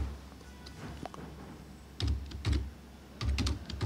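Keystrokes on a computer keyboard as a search term is typed into a lawyers' syndicate legal portal, coming in short clustered bursts of clicks against a quiet room hum, close and moderately loud.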